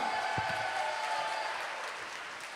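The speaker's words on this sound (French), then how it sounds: "Applaudissements!" Applause from a crowd at the closing ceremony of the 2022 Relais pour la Vie charity event in Marche, a steady wash of clapping filling the clip, with a brief voice near the start.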